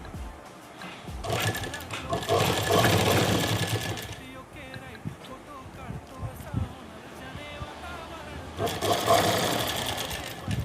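A sewing machine stitches the hem of a salwar in steady motor-driven runs, loud and close, with a quieter pause in the middle before the stitching picks up again.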